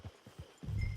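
Horse hooves clip-clop in Red Dead Redemption 2, a few soft, evenly spaced thuds that merge into a denser low rumble of steps near the end, fairly quiet.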